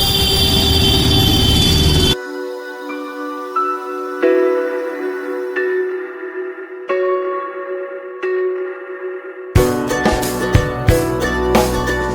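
A train rumbles across a railway bridge in Surat at night, with steady loud wheel noise, then sustained ringing metallic tones like bells or wheel squeal, and a burst of clattering at the end.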